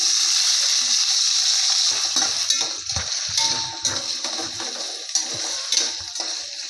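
Small onions, or shallots, fry in a pan for a chutney, giving a bright continuous hiss, with occasional soft clinks and stirring scrapes close by.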